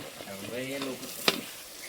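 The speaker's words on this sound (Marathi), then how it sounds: "आता तांदूळ टाकत आहे" Rice is tipped into a hot pot to cook khichdi, giving a steady frying sizzle and stirring noise throughout, with a short voice heard briefly early on and a sharp clink partway through.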